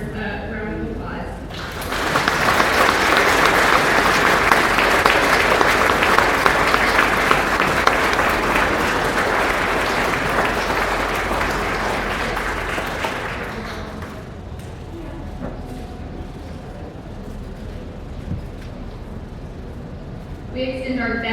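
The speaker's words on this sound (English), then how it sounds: "Please help me give these members a round of applause." Loud sustained applause from an audience at the 2024 Montgomery County Fair opening for 4-H club members, a dense wash of clapping lasting about twelve seconds before thinning to room noise and talk.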